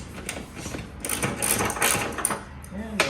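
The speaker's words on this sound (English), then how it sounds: "now it's ratchet time" Ratchet wrench loosening bolts on a motorcycle, a busy run of close mechanical clicking and grinding bursts that stay steady throughout.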